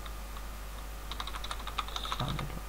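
Quiet clicking of PHP code being typed on a computer keyboard, sparse keystrokes at first that quicken into a denser burst of taps near the end, close and faint over a low steady hum.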